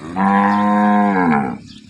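A single long moo from a local cow in Banaskantha, loud and close, rising and holding for over a second before trailing off.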